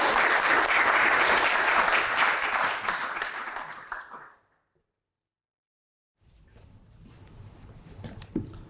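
An audience welcoming a speaker at a data science talk gives loud, dense applause that fades after about four seconds into near silence, followed by low room noise and a faint knock.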